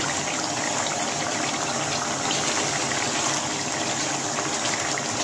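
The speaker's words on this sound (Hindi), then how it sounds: "इसमें मुझे जितनी ग्रेवी चाहिए होगी इसके मुताबिक इसमें पानी शामिल करूँगा" Water poured into a pan of spiced chicken kofta gravy while cooking, a loud, steady gushing pour that runs without break, close to the microphone.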